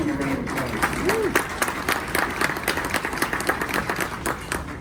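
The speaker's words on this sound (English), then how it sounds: "Let's give him a round of applause." A crowd applauding at a chamber membership luncheon, dense steady clapping from many hands throughout, fairly close, with a faint voice at the start.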